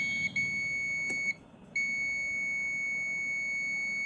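A multimeter set to buzzer mode beeps with a steady high tone while probing a capacitor on a smart LED TV motherboard. The tone drops out once briefly and then resumes, continuous and close.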